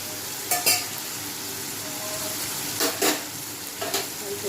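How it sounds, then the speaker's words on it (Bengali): Potatoes and pointed gourd sautéing in a pan, a steady close sizzle broken by a few sharp scraping stirs of a spatula; no talking. "আলু দিয়ে একটু কষিয়ে নেব আলু আর পটলটা দিয়ে"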